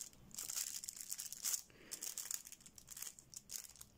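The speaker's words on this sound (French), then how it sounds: "Je suis désolée pour le bruit du papier" Close, crisp crinkling and rustling of paper in repeated short bursts, fairly quiet and without voices.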